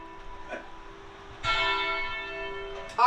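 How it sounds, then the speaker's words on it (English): A church bell rings in Savannah, Georgia, its steady tone sustained and then struck again louder partway through, with a ringing overtone hum and no talking. "all the women ring every church bell in the city"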